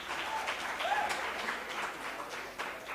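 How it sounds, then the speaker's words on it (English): Audience applause fills a hall at the Media Challenge Expo 2022, a dense, steady patter of many hands held at an even level for the full stretch, with no voices standing out. "A big round of applause."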